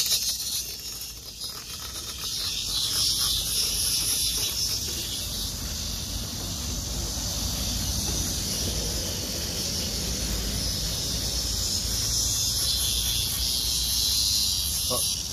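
Cicadas, including large brown and black species, sing in a loud, continuous, buzzing drone outdoors in summer, filling the air steadily with a high, shimmering hiss throughout.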